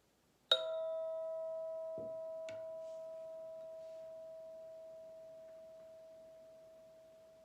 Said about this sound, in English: Noticing the beginning, the middle, and the end of the sound of the bell when it completely fades for you.